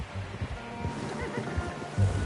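A horse neighs and whinnies in the Western game Red Dead Redemption 2, with a few low snorts and breathy bursts close up against a steady ambient bed of the open landscape.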